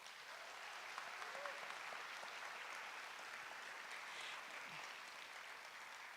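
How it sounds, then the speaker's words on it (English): Audience at a school commencement applauding the school band, a steady even wash of many hands clapping heard from a distance, faint and unbroken. "Let's give them a round of applause."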